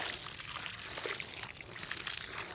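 Water is poured onto newly planted seedlings in a small farm plot, a soft, continuous trickling and splashing heard faintly and close by.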